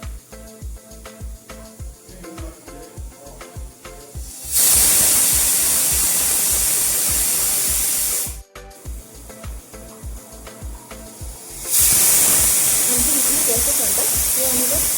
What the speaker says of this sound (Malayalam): 5 വിസിൽ കേട്ട് കഴിഞ്ഞു.